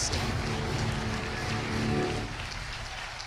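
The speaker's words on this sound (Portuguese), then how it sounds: "Se é para Jesus, aplaude mais forte" A church congregation claps during an evangelical sermon, producing a dense, continuous wash of applause at moderate distance that holds steady and then thins slightly toward the end.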